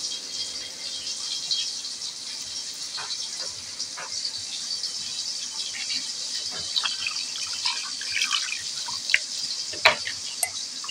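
Meat is rinsed with water and lemon juice, giving a continuous faint watery wash with small drips and light rattles of pieces moving in a bowl.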